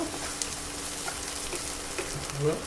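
Ingredients frying in oil in a pan for a mango and seer fish gravy curry, a soft, steady sizzle with light crackles throughout, fairly quiet and close.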